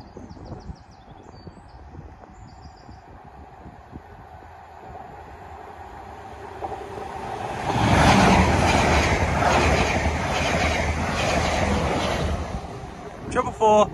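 Passenger train from London to Weymouth passing Winfrith foot crossing, a distant rumble swelling into loud, close rolling wheel clatter and rushing air, then fading, with someone talking earlier in the clip.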